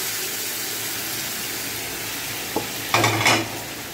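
Boiled yellow dal, cooked with turmeric, goes into a hot pan of lightly fried ginger, bringing a short sharp hiss and then a louder burst of sizzling and stirring over a steady background of frying.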